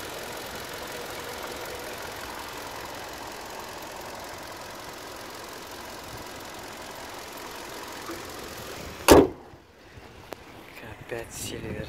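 Steady idle of a silver 2013 Kia K5 parked in Incheon, South Korea, a constant low engine drone cut by a sharp knock near the end, after which the sound drops off abruptly.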